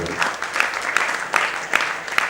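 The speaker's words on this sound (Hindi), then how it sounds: "तालियां थोड़ा सा बजा लीजिए।" A theatre audience at a Hindi stage play claps in a steady, moderately loud burst of applause, with scattered louder claps pulsing through the sound of many hands.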